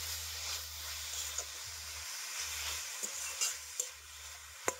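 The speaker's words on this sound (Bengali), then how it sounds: "গুড়টাকে খুব ভালো মতো এটা আমি আবারও মিশিয়ে নিচ্ছি" A carrot and jaggery filling is stirred in a pan, soft sizzling under a series of spoon scrapes and light clicks against the metal, fairly quiet and close.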